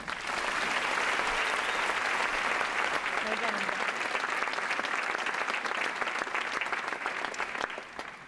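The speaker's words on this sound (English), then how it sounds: "Big round of applause for Darwin." A large audience applauds at a Stanford event, dense sustained clapping and crowd noise holding steady for several seconds before easing slightly at the end.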